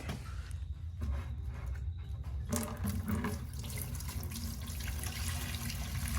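Old stale gasoline pours from the gas tank of a Yamaha Raptor 660 ATV into a bucket, a steady close-up splashing liquid stream that runs without pause.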